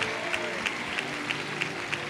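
A church congregation clapping for Jesus at a miracle crusade, sustained crowd applause with a regular rhythmic beat and background music droning beneath.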